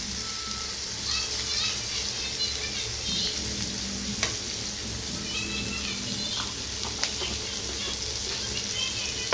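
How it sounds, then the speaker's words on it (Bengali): Onions fry in oil with a salt pinch, producing a continuous moderate sizzle and soft crackle, with occasional clinks of a stirring spoon against the pan. "আর পেঁয়াজটা ভাজা ভাজা করে নিই।"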